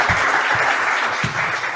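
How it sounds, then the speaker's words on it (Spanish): Audience applause at a talk on the academic apparatus at a congress in Río Cuarto, a steady dense wash of clapping filling the whole stretch, loud and close with no voices over it. "Aplauso para Lenin."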